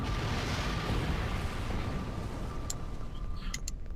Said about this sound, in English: Great, more explosions.